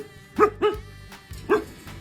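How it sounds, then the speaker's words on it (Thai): A dog at a small roadside shop barks three times, two quick barks close together and then one more after a pause, loud and close with no talk over it. "มึงเห่าอะไร"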